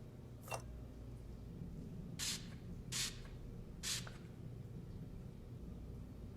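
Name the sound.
spraying luminol on a wall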